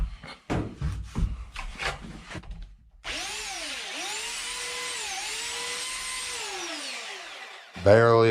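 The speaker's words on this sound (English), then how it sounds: "we're gonna sand it off lightly" A power sander runs steadily for several seconds as a scrap-wood picture frame is lightly sanded with barely any pressure, its whine dipping slightly under load; tapping and handling noises come before and a clatter follows.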